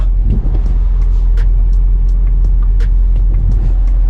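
Heavy road traffic in the Philippines, a loud continuous low engine rumble from cars and buses close by, with scattered hisses and clanks and no talk.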